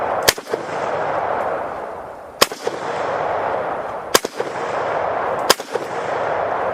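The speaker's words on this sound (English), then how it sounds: "I can't come to the gun range and not lob off some lead, so let's just go ahead and set a few rounds down range" Four loud, sharp rifle shots from an AK-47 firing full metal jacket rounds at an outdoor gun range, spaced irregularly about one to two seconds apart over a steady background hiss, each with a brief echoing tail.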